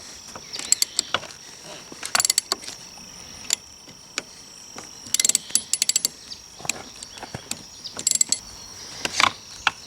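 A ratchet wrench tightening handlebar riser bolts on a Honda Africa Twin CRF1000L, with bursts of quick clicking and metallic rattles at close range.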